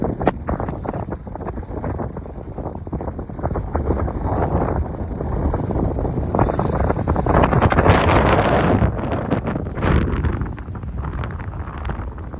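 Strong wind on a hilltop in North Dakota roars steadily across the microphone for the whole stretch, gusting louder near the middle with buffeting rumble and no talking.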